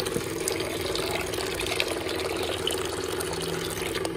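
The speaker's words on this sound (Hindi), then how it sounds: "अब इसमें डालेंगे ठंडा पानी।" Cold water pours steadily into a container with a continuous splashing, filling rush that holds at a constant level for the whole stretch, close by and with no talking.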